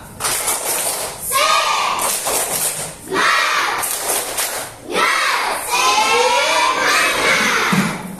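A group of children does an Indonesian spirit clap, clapping and chanting together in loud rhythmic bursts separated by short pauses.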